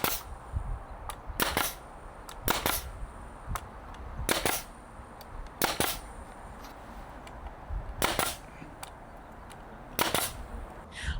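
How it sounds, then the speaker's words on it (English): Brad nailer firing brad nails into a narrow post, six or seven sharp snapping shots spaced about a second or two apart, close and loud, with quiet pauses between. "I'm just going to use some brad nails to lock this in."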